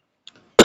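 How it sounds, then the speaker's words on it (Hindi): A person with a cold lets out a single sharp, close cough after a moment of near silence, with no talking. "जुकाम मुझे ज्यादा खांसी आ रही है"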